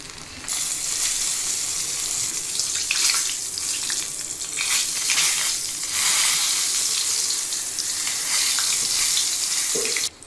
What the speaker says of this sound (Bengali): এই যে এইভাবে হালকা ব্রাউন কালার করে আমি সব মাছগুলো ভেজে নিব